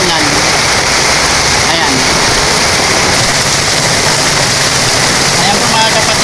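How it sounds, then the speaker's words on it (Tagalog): Heavy typhoon rain pours down in Marikina in a dense, steady roar that fills the whole clip, with a voice talking briefly over it. "napakalakas po ng ulan"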